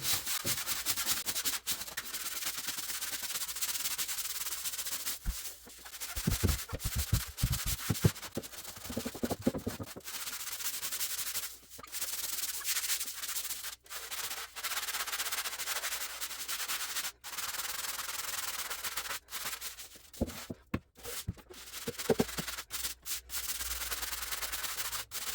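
A surface being scrubbed dry without any liquid: steady, close, rough rubbing strokes that carry on for about 25 seconds, with brief pauses and a few sharper scraping bursts near the middle and end.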